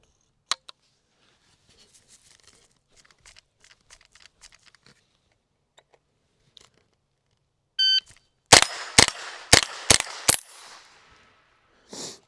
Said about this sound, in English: I'm gonna come across to that plate again